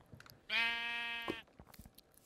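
A black sheep in Minecraft gives a single clear, wavering bleat lasting close to a second, near and loud against quiet game ambience.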